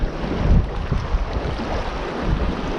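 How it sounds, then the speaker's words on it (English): Strong wind on coastal rocks buffets the microphone in heavy, rumbling gusts, rising and falling continuously with no voices. "the wind is howling"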